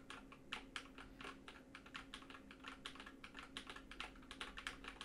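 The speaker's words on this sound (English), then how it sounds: "These are glorious Panda switches that are in this keyboard, so it's a little bit louder than maybe, say, like a linear key keyboard" Rapid typing on a tactile mechanical keyboard fitted with Glorious Panda switches, mostly hammering the WASD keys; a dense, steady stream of sharp, clacky keystrokes, fairly close and moderately loud, with no voices.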